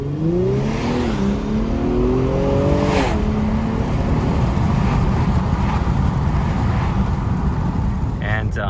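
A 2020 Infiniti Q60 Red Sport 400, all-wheel drive with no acoustic glass, heard from inside while it accelerates hard, its engine note climbing through a gear change and then settling into a loud, steady rushing drone.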